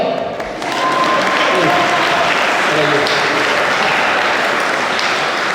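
Audience applause at a recognition gala in Lanoraie, a dense, sustained wash of clapping that swells in after a brief quieter moment and stays loud and steady throughout.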